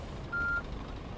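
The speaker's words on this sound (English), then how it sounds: "You can hear the reversing alarm going off" Truck reversing alarm in the On The Road Truck Simulator video game, a single steady electronic beep tone lasting about a quarter second, standing out over a low engine rumble.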